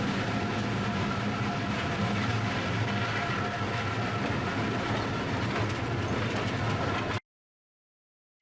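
A train climbing a mountain switchback on the line from Cass to Bald Knob in West Virginia, a loud, continuous rumble with rhythmic wheel clatter that cuts off abruptly into silence near the end.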